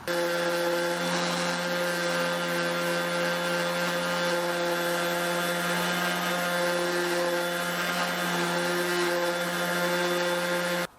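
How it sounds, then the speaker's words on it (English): A power sander smooths the seams of a wooden cabinet built for a 1980s TV conversion, giving a steady droning whir with a constant pitched hum for the whole stretch, close and alone. "now I'm just sanding down all my seams, getting them nice and smooth"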